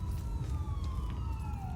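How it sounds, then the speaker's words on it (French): Distant police sirens wailing in the video game Murdered: Soul Suspect, a thin gliding tone that slowly drops in pitch, faint behind a low rumbling ambience for under two seconds. "J'attends des sirènes, là-bas au fond."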